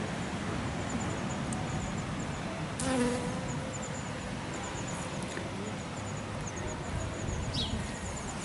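Up close, a bee buzzes as it moves among flowers gathering pollen, a steady fuzzy drone that swells briefly partway through over faint outdoor background, with no talking.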